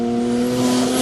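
BMW E46 M3 race car at a Cape Town hillclimb, a loud steady engine howl held at high revs and rising slightly in pitch, close and continuous for a brief moment.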